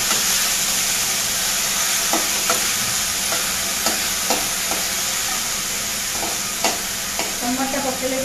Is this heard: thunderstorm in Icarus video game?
no